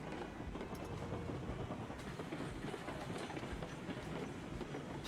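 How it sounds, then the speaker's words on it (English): A heavy coal train in the game Railroads Online runs along the track, a continuous low rumble with rhythmic wheel clatter, steady and fairly close, with no talking. "That coal train is really heavy. He's actually slowing down."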